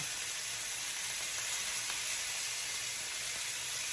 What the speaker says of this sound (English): Nice little sear on that side.